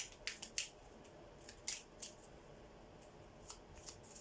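A deck of tarot cards is shuffled by hand in short crisp riffling bursts with gaps between, faint and close in a quiet room with no talk.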